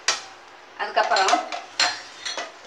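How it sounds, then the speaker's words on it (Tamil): Eggs being beaten in a bowl for an omelette, several short bursts of clinking utensil-against-bowl whisking separated by brief pauses, close and moderately loud. "இதே மாதிரி நுர வர்ற அளவுக்கு நல்ல முட்டையை அடித்து வச்சுக்கோங்க."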